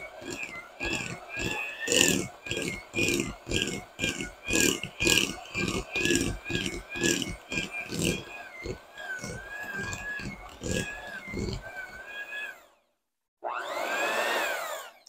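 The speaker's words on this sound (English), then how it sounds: "Hit it just a little bit more with that mixer" Electric hand mixer whipping mashed sweet potato casserole, a whirring motor that pulses in a steady rhythm as the beaters churn for about twelve seconds, then cuts out, with a short burst of sound after the pause.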